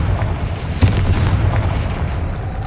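A Confringo spell explosion in the Hogwarts Legacy video game, a sudden low boom with a short burst near the start, then rumbling debris noise for the rest of the clip.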